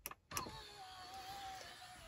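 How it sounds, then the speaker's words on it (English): Small electric motor lowering the retractable dashboard screen in an Audi A6 Avant Black Edition 2.0 TDI: a quiet click followed by a faint, smooth, steady whine inside the cabin, with no talk. "you can just press the button there and the screen smoothly disappears"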